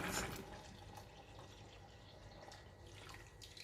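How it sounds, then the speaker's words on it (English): Cold water is poured from a kitchen tap into a pot of boiling water for rice and peas, giving a faint, steady splashing and trickling pour. "water has come to a boil and now I'm just adding some cold water onto it."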